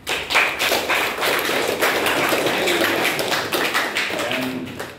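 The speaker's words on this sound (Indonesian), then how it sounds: "Tepuk tangan." Students in a classroom clap their hands together, a loud, steady burst of many hands lasting several seconds close by.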